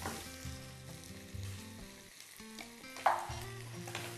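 Onion sizzles steadily in a frying pan up close, with tonal background music running underneath.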